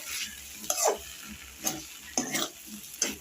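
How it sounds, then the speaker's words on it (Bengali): Kohlrabi ghonto with roasted cumin powder sizzles in a pan as a utensil stirs it, a steady close frying hiss broken by several louder scraping stirs at an uneven rhythm. "এখন আমি এটা আবার একটু নাড়াচাড়া করব"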